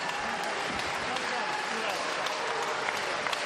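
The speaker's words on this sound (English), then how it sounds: "Yeah, generous applause." Arena crowd applause after a 12-round boxing bout between Bradley Pryce and Sergey Rabchenko, a continuous, even roar of clapping that holds at the same level throughout.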